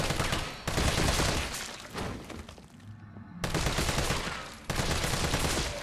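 Rapid rifle gunfire from Resident Evil 3 Remake during a fight with Hunters, loud dense bursts of automatic shots in two long stretches, broken by a short lull and resuming, with no talk over it.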